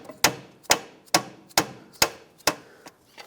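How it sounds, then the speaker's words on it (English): Rubber mallet taps against a stuck water pump on a 2012-2020 Ford Focus: six sharp, evenly spaced knocks about half a second apart, close and clear, then a faint seventh. "Okay, let's use a rubber mallet. Give it a few taps"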